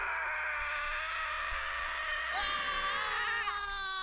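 Drawn-out human screams from the horror shooter F.E.A.R., a wavering, pitched wail that rises and bends for a few seconds over a low steady hum, played alone without talk.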